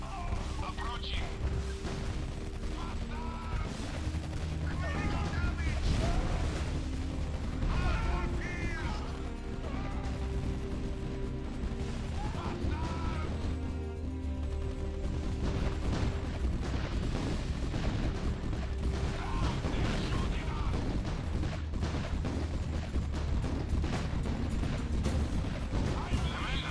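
Gunfire and explosions in the video game Art of War 3 keep up a dense, continuous barrage of sharp shots and rumbling blasts, with game voice lines cutting through the din.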